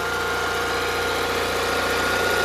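An old engine idles steadily just after an ignition coil swap, with a continuous low, even rumble and a faint rhythmic pulse, close and fairly loud, with no talk over it.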